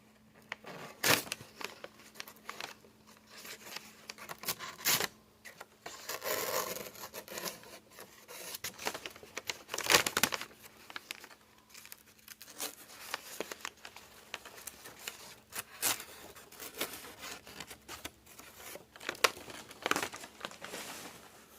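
Packing paper being cut and torn with a Budk Mountain Man knife, giving repeated close rasping, crinkling tears and rubs in uneven bursts with brief pauses, and no talking.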